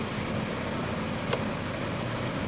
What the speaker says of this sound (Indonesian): ciri khas berikutnya, yaitu adanya AC double blower